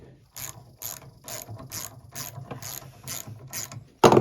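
A hand ratchet clicks in about eight steady strokes as it tightens a bolt on the rear suspension of a 2001 Yamaha Venture/SXR 600 snowmobile, close and clear, ending with a sharp clunk.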